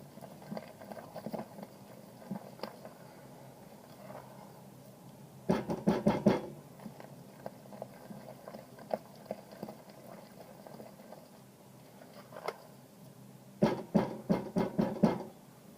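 Thick, gloopy homemade liquid soap is stirred in a pot, giving quiet wet squelching with two louder bursts of rapid sticky slaps, close up and without voices.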